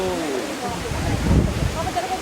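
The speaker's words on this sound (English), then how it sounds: "You can see behind that waterfalls." Kudlu Theertha Falls in the Western Ghats pours in a steady, broad rush of falling water, with people's voices heard over the constant roar.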